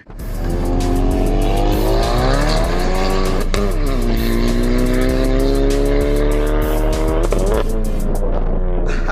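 A turbocharged 2.0 Camaro with a manual gearbox launches, its engine revving hard and holding high under load with squealing tires spinning through first gear, rising and shifting pitch over several seconds, close and continuous.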